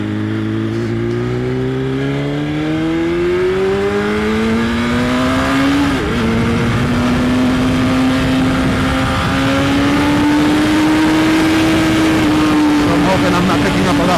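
A BMW S1000RR on Michelin Road 6 tyres rides through New York City, its engine a loud, close, continuous whine whose pitch climbs through the gears and then holds steady, with wind rush underneath.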